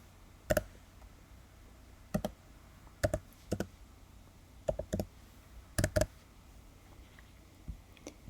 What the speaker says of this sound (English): And then you'll type that in there.